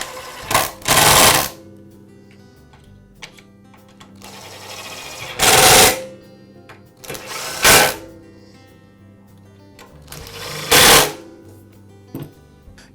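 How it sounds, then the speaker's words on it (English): An impact driver drives screws into the housing of a DeWALT chop saw under repair. Four short, loud, rattling bursts are spaced across a quiet background, each lasting about a second. "I'll finish them up with an impact driver"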